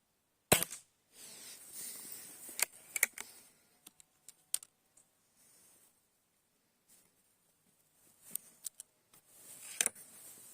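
A few sharp, dry cracks from a Shanghai B1-1 air rifle fired at 10 metres, with small clicks and rattles in between, set against near silence.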